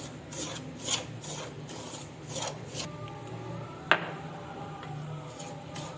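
Dry semolina roasted in a pan and stirred with a spoon, soft repeated scraping strokes at a steady rhythm, close and quiet, with one sharp tap against the pan midway.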